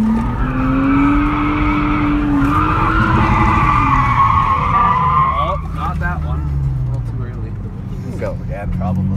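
A car drifting on a public street, tires squealing loudly in long sustained skids over a droning engine, with the tire screech fading into rougher engine and road noise toward the end.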